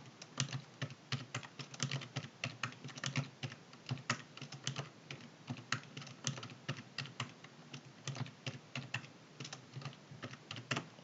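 Keys on a computer keyboard get pressed in a fast, continuous run of close, crisp clicks and clacks while entering data into a spreadsheet, with no voices.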